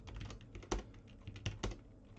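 Steady typing on a computer keyboard, a fast run of soft key clicks with a few louder, sharper strokes, heard close and quiet with no voices.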